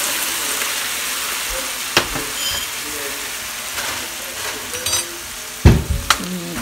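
Ground beef fries with taco sauce in a pan, a loud, steady sizzle broken by several knocks and scrapes from stirring, with one heavier thump near the end.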